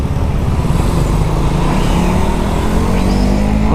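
A motorcycle on a road tour between Blitar and Gresik in Indonesia accelerates with a steady loud engine drone, its pitch climbing near the end, with continuous road and wind noise and no speech.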